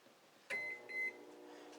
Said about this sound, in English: Put that in the microwave.